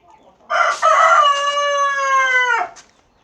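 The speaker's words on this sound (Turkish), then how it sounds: "Arkadaşlar tavuklarımız çok tatlılar." A rooster crows once, loud and close, a long drawn-out call lasting about two seconds against a quiet background.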